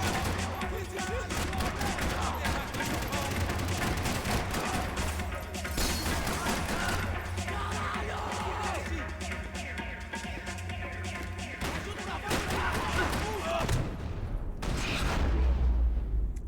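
Continuous gunfire and crashing action from the video game Max Payne 3, dense and loud throughout with rapid overlapping shots and impacts, fading out near the end.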